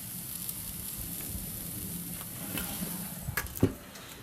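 Pork tenderloin sizzles on a grill beside a garlic-herb piece and a mesquite piece, with a steady faint hiss and a few sharper crackles and pops near the end.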